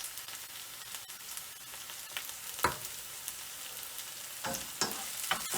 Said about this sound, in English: so let's fry the mackerel in the pot